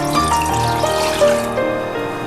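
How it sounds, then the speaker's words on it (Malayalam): Six cups of plain water poured steadily into a heavy pot on a stove, a continuous close splashing fill with rising tonal ringing from the vessel, no talking. "ഒരു ചൂട് കട്ടിയുള്ള പാത്രം, അതിലേക്ക് ഒരു 6 കപ്പ് വെള്ളം അളന്നത്"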